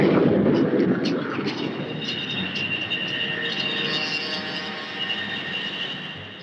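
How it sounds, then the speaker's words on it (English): Skyhawk jet aircraft launching from the aircraft carrier Melbourne: a loud, sustained jet roar that is strongest at the start and holds a steady whine as it slowly fades, with no speech. "The Skyhawks are launched to take part in a combined exercise with the Army."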